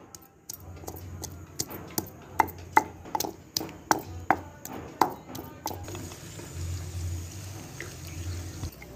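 Ginger is chopped with a knife on a board for ginger paste, about a dozen sharp, evenly spaced knocks that then give way to quieter kitchen sounds, with no talking.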